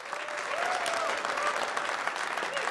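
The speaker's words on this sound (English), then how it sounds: "Straight guys, clap it up." Comedy club audience clapping steadily for nearly three seconds, a dense, even wash of applause with faint voices and whoops mixed in.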